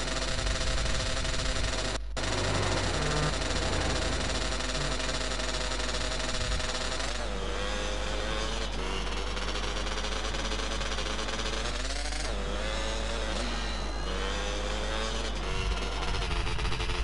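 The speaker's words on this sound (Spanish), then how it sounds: "Suena como la moto." Motorbike engine in the game GTA San Andreas, a steady droning hum with shifting pitch as the throttle rises and falls, running continuously and fairly loud with no talk over it.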